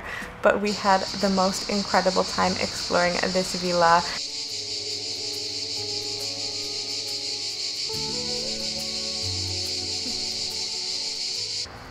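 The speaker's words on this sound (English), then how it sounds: "One thing that I did want to include here is the sound of the cicadas." A person talks briefly, then a steady high-pitched drone of cicadas on the Amalfi Coast, Italy, fills the air, constant and fairly loud.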